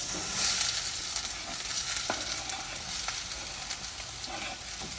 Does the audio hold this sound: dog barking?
no